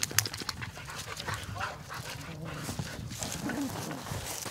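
Hunting dogs on a mountain lion hunt in New Mexico whimper, whine and pant close by in a busy outdoor scene with rustling and scattered short yelps, with brief talk mixed in.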